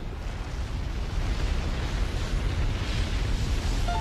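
Deep rumbling roar of the Thera volcanic eruption, a broad, sustained low boom with noisy hiss that swells slightly and holds steady for several seconds, heard alone.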